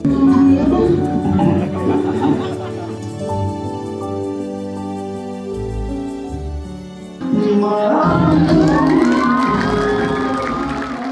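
An audience at a film premiere gala claps and cheers loudly. Music plays during a quieter middle stretch, and then the crowd noise surges again.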